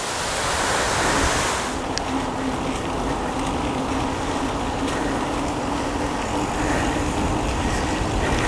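Ocean waves wash steadily onto a Cape Cod beach in a continuous broadband rush, fairly loud and close, with a slight swell near the start and no voices.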